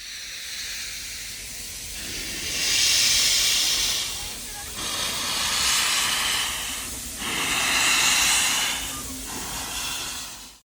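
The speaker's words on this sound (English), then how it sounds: "Next, let's hop on the circus train ride." A circus-themed train ride at Magic Kingdom gives off loud rhythmic bursts of steam hiss over a constant rumble, repeating about every two to three seconds, with faint voices in the background.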